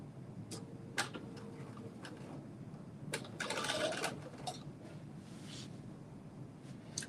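A sewing machine runs a long basting stitch on a Simplicity S8839 or S9683 pattern project. It hums steadily with fine repeated ticking, and a brief louder whir swells midway, with no one talking.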